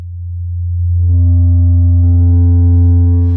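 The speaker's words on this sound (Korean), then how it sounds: "저음에만 머물러 있던 어떤 사인파 기반의 베이스 라이도 고음역까지 쭉 확장되는 거를 보고 들으실 수 있을 거예요" A sine-wave bass note, loud and sustained, starts as a pure low tone and then gains saturation, with harmonics building up into the high range in steps while the note holds steady for about three seconds.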